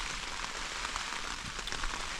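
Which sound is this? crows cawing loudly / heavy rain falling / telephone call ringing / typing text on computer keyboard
heavy rain falling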